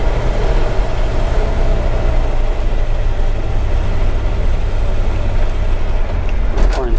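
A 1951 Ford F-1 pickup truck drives along with a loud, continuous low engine rumble and road noise that never lets up, heard from inside the cab.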